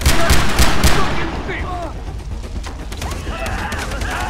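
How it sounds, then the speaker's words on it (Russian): Rapid bursts of machine gun fire in Far Cry 3 crackle at the start, then fade into lighter scattered shots and clatter. "Это наш нынешний пулемет."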